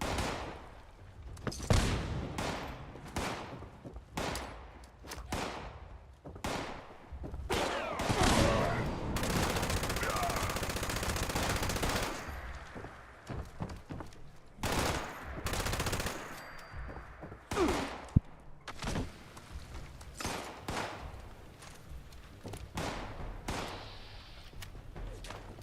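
Automatic gunfire in Fallout 76 during a fight with alien invaders, rapid bursts and volleys of shots with short pauses, loud and close, occasional heavier blasts.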